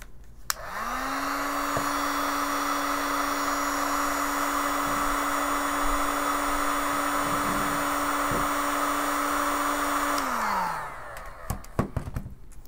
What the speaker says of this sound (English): Now I'll be using my heat gun. This is a Mastercraft heat gun from Canadian Tire.